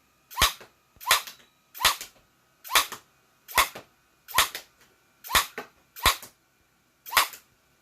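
A REXFIRE HC Diana Nerf blaster fires nine sharp, evenly spaced shots about one per second, each a crisp snapping burst close to the listener, with quiet gaps between them.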